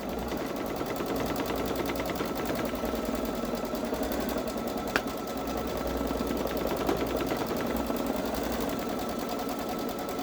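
A Babylock Solaris 3 sewing machine quilts a sweatshirt in a continuous, rapid mechanical chatter of stitches, steady and close, with a sharp click midway and no speech.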